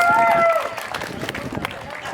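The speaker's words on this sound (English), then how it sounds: "Thank you, Randy. Fantastic. Round of applause." Pageant audience at a cheese festival giving a round of applause, a burst of many hands clapping that follows a short tone, with voices from the crowd mixed in.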